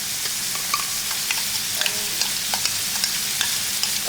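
Beef sizzles steadily in a hot pan as tomato sauce goes in, a constant bright frying hiss with small scattered pops and light stirring clicks, close by and with no voices.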